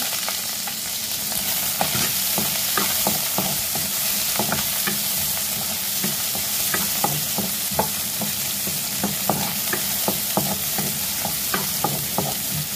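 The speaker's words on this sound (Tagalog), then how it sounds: "Igisa natin ng mga 15 seconds. Then, ang ating sibuyas." Onion sautés with garlic in a frying pan, a steady loud sizzle of hot oil broken by frequent sharp ticks and scrapes of stirring, with no talking.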